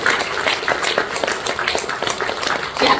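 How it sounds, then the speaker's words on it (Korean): An audience applauds at a party members' rally during a lawmaker's lecture: dense, steady clapping from a crowd, fairly loud and continuous for the whole stretch, with no clear speech over it. "박수 한번 쳐주세요."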